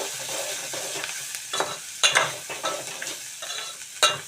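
Curry leaves dropped into hot oil in a pan for a drumstick and tomato curry, a bright sizzle with crackling bursts and stirring scrapes, close and loud, no voices.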